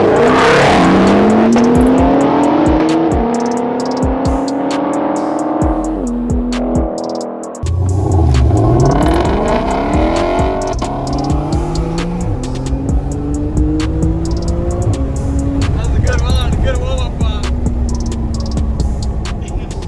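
A Ford Mustang Shelby GT500 and a Porsche 911 GT2 RS launch side by side in a drag race, engines revving loudly and rising through the gears with sharp shift breaks, then roaring away as the sound fades and the cars pull off.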